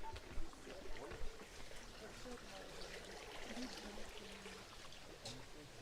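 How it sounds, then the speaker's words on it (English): Water trickles and flows steadily near a small natural grotto pool in Cyprus, a soft continuous wash heard at moderate distance with faint footsteps and outdoor noise mixed in. "I hear water."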